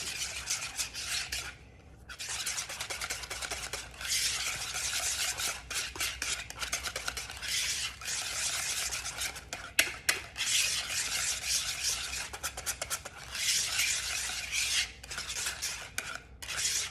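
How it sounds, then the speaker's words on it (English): A homemade ranch dressing is whisked in a bowl, giving a steady, close scraping and rasping of the whisk against the bowl that runs throughout with brief pauses. "I'm just gonna give it a good whisk"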